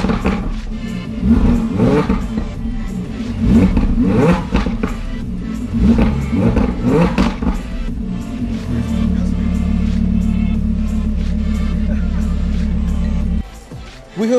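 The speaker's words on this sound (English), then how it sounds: "Also, this car has an Akrapovic exhaust system fitted." An Audi R8 fitted with an Akrapovic exhaust revs loudly in several sharp bursts, then settles into a steady, droning idle before cutting off near the end.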